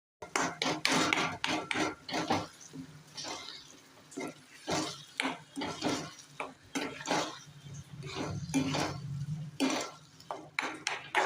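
A spoon stirs mashed roasted eggplant bharta in a pan, giving repeated scraping and clinking strokes in an uneven rhythm, fairly close and clear, with no talking.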